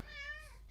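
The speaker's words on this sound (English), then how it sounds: "that was the cat giving its opinion there" A cat gives a single drawn-out meow, clear and fairly close, heard on its own without any talk.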